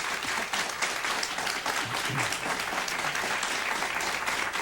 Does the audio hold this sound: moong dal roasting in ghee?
no